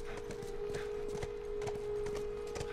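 Horse hooves clip-clop at a steady walking pace during riding in The Last of Us, rhythmic and fairly soft over a constant low hum.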